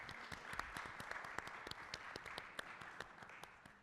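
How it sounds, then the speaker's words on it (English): An audience at a humanities talk gives a short round of applause, a thin spread of claps heard from a distance and fairly faint, holding steady and then tapering off slightly. "I'm actually going to ask you to applaud and thank them."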